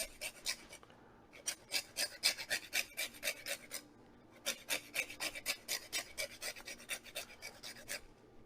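Key lime rubbed against a zester in two quick bursts of rhythmic rasping strokes, each stroke a short scratchy swipe, close and crisp with a brief pause between bursts and no talk.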